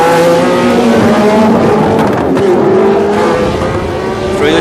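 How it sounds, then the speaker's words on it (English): Formula One cars race along Ocean Boulevard at the 1976 Long Beach Grand Prix, engines howling loud and close with rising and falling pitch as cars accelerate and pass. "On the end of lap 4, Regazzoni along Ocean Boulevard"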